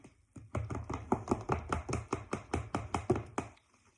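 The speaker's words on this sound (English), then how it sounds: "I give this a good stir" A spoon stirs yogurt culture into milk in quick, steady strokes, about a dozen rhythmic scraping clinks against the container, close and fairly loud with no voices.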